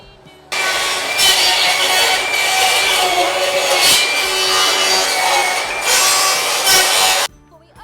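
A cordless circular saw rasps steadily through pallet wood for several seconds, loud and close, with a harsh scraping texture that swells and eases before stopping abruptly.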